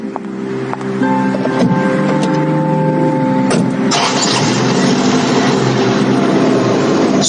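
A car engine starts and runs steadily, then revs and drives off on a lonely highway, loud and close with a broad continuous rumble and no talking.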